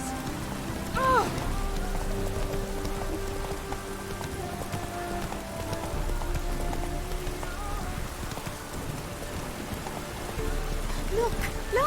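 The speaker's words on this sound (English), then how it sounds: "It just rains and rains." Steady rain falls in The Witcher 3: Wild Hunt, a dense, even hiss of drops on surfaces that runs throughout, with faint tonal game sounds and murmurs mixed in.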